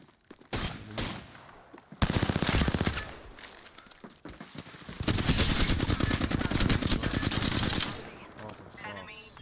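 Apex Legends gunfire rattles in loud automatic bursts: a short burst early, a dense volley around the two-second mark, then a long sustained stretch of rapid shots that fades near the end.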